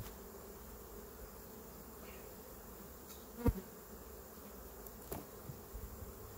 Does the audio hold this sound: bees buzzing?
yes